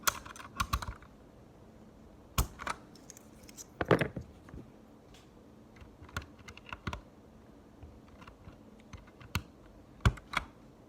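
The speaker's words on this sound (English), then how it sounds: "Gotta take off some keycaps." Keycaps being pried off a mechanical keyboard with Gateron red switches, heard as scattered sharp plastic clicks and snaps at close range, spaced irregularly over quiet handling noise, with no voices.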